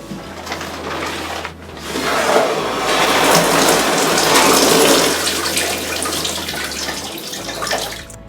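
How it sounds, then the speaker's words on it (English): An emergency safety shower at a school is pulled for a monthly check, releasing a loud, steady rush of running water that swells after the first couple of seconds and continues strongly, with no talk over it. "I will now pull this safety shower to ensure that the monthly monitoring protocol are met"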